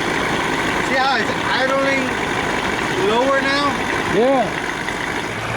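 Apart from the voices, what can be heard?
Johnson 40 hp outboard motor idling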